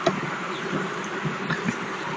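Worker honeybees buzz at an open beehive, a dense, steady hum of many insects close by, with no one speaking.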